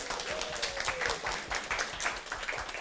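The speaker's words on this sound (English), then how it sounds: "I would like you to give them a huge round of applause." A group of people claps steadily and moderately loud at an employer event, with overlapping claps that sound fairly close and a brief whistle-like tone rising partway through.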